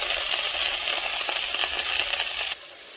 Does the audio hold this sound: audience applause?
no